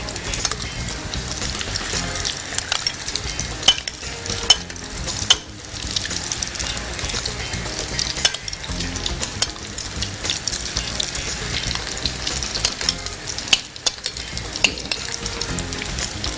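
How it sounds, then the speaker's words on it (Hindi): Vegetable manchurian balls deep frying in hot oil, a dense, continuous bubbling sizzle with occasional sharp clicks, steady and fairly loud throughout. "आप ये देखिए कितने प्यारे बॉल्स फ्राई हो रहे हैं।"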